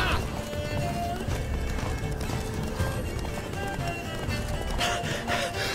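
Roach, the horse in The Witcher 3 video game, gallops in a steady drumming of hoofbeats that runs unbroken across the whole stretch, with game ambience layered underneath.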